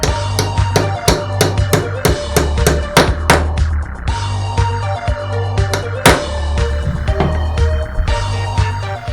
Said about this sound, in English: I'll place the socket on the race and tap it in place with a hammer.